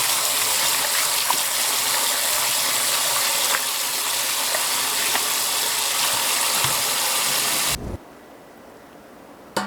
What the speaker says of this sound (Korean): 절여진 양파는 두 번 정도 헹궈줍니다. 물에다.